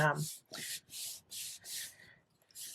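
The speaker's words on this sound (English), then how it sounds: "I like to turn this over flat down and then give it a rub" A greeting card with an embossed panel, laid face-down on a flat surface and rubbed by hand, about six rhythmic hissing swipes close by, following a brief bit of speech at the start.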